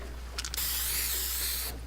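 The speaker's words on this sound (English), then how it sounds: "we're just spraying some graffiti because this is Teknique, the graffiti street artist" Graffiti spray paint hissing in Fortnite Battle Royale, a steady aerosol spray lasting over a second after a few short preliminary bursts, close and fairly loud.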